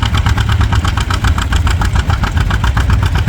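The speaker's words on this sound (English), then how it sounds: "Here's a little fancier John Deere, been restored up." A restored John Deere tractor engine runs steadily and loudly close by at a public show in Anselmo, Nebraska, with a rhythmic low thumping beat and mechanical clatter and no speech.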